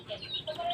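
Backyard chickens cluck softly in a brief, faint burst of short calls, with no talking over them.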